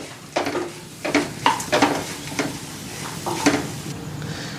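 Beaten rice (aval) roasting in a pan is stirred with a utensil, making rhythmic scraping strokes with a soft sizzle underneath, close and moderately quiet.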